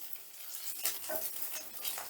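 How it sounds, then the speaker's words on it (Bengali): Dried red chillies frying in a pan, a soft continuous sizzle broken by repeated stirring scrapes, fairly faint and close with no voices. "শুকনো লঙ্কাটা বেশ লাল লাল করে ভেজে নিয়েছি"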